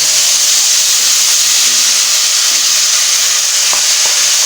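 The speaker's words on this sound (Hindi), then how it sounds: "टमाटरों को भी अच्छी तरह से बीच में भुनाई करेंगे, इनका कच्चापन खत्म करेंगे" Tomato paste frying in a pan with cumin and ginger-garlic paste for dhaba-style chana dal, giving a steady, close hiss and sizzle with no pauses and no voices.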